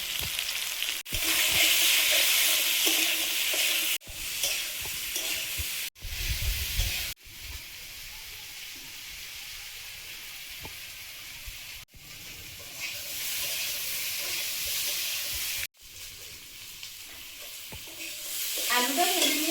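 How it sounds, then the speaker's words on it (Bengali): Potatoes fry in a pan with black cumin, white cumin, radhuni, slit green chilies, spice powder and salt, giving a steady loud sizzle broken by several brief stirring scrapes and gaps. "আলুটা ভেজে নিয়েছি ভালোভাবে"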